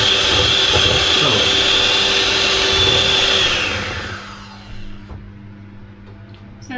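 An electric whisk runs at full speed in baking batter. It gives a loud, steady whirring buzz for about four seconds, then cuts off, leaving a quiet room.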